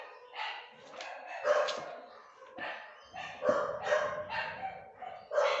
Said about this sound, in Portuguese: as minhas cachorrinhas é uma benção, irmão. Elas gostam de fazer barulho